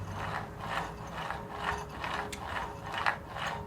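A ratchet runs down bolts on a Volkswagen Beetle engine case for a 2054cc stroker build, giving a close, steady rapid clicking in repeated short strokes, with no speech.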